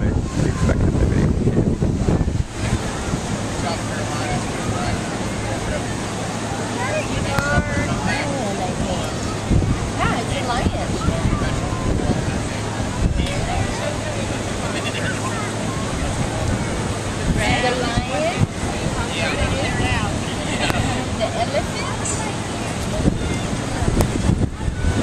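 Ocean surf washes steadily onto a beach under gusty wind noise, with faint voices in the background.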